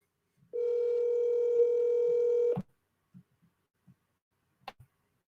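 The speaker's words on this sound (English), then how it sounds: "Let me see if I can get this guy on the phone here real fast." An office telephone dial tone sounds steadily for about two seconds, then cuts off, followed by a few soft scattered keypad clicks and a short click burst as a follow-up call is dialed.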